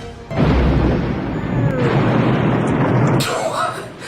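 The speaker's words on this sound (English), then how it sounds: "Quaid uses it to blow up the shark for good." Grenade explosion blowing up the shark in the film Jaws 3: a loud, sustained booming blast that erupts suddenly and rumbles on for about three seconds before cutting to a hissing tail.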